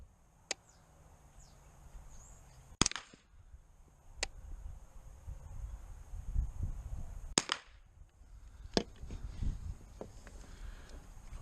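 A Freedom Ordnance FX-9 carbine fires five sharp, distinct shots, irregularly spaced several seconds apart, with a quiet outdoor background between them.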